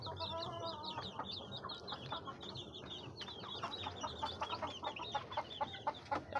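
Dense, overlapping peeps from a crowd of newly hatched chicks fill several seconds near at hand, with two hens clucking low beneath the rising and falling chatter.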